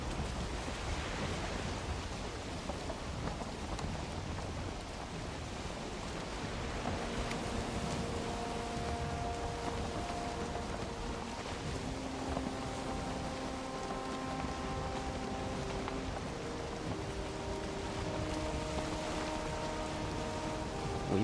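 Ocean waves wash around a ship sailing in the video game Valheim, a steady, soft, rain-like rushing that never lets up, with faint sustained music tones drifting above it.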